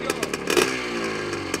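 A 1984 Honda CR80R motocross motorcycle with a brand-new engine revs nearby in quick, buzzy bursts that rise and fall, while people talk faintly under it.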